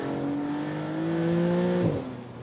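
A Maserati MCPura V6 supercar accelerates hard in second gear, its engine note climbing steadily from inside the cabin before a quick drop as the throttle eases, loud and continuous with no talk.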